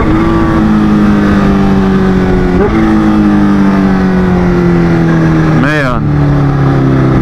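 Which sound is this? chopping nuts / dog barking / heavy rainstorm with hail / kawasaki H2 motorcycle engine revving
kawasaki H2 motorcycle engine revving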